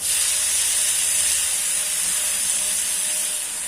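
Salted cabbage hits hot oil with fried potatoes and onions, setting off a loud, steady sizzling hiss that holds without a break.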